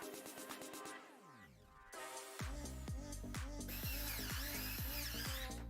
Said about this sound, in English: Put the other screws in.